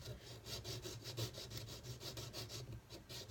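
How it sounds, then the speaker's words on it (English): A thin pharmacy nail file rasps back and forth into the end of a bamboo arrow shaft to cut a nock, quiet rhythmic strokes repeating evenly at close range. "Then I take this little nail file that I got at the pharmacy."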